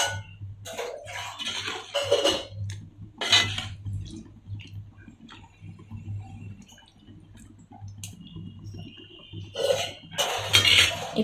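Rice is stirred gently in a pot of mushroom dum biryani, giving intermittent scraping and metallic clinks in short bursts separated by quieter stretches; no one speaks.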